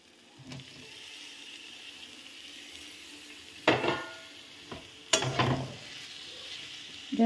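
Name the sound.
snake gourd frying with tomato sauce in a pan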